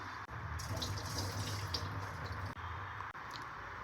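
Sesame seeds being washed by hand in a bowl of water to rinse out soil, with steady sloshing and splashing close up and brief pauses, no talking.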